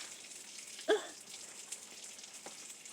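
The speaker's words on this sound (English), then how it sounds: "You hear it sizzling over here, y'all?" A faint, low sizzle from a pot of soup, punctuated by a sharp pop near the start and a couple of softer crackles.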